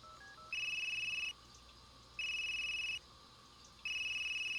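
A phone rings back after redialing the last number: three long electronic ring bursts with short gaps, clear and fairly loud over faint background hiss, no talking.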